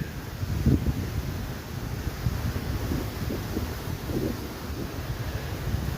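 Strong outdoor wind buffets the microphone, producing a constant, loud, low rumble with gusty bursts throughout.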